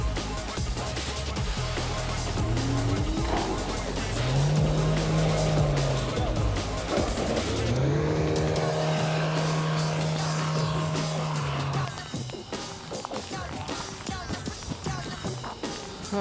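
A 4x4 off-road vehicle stuck in deep mud during an extreme off-road challenge in the Sahyadri hills, its engine revving loudly in long rising and falling surges with crowd noise and people talking throughout.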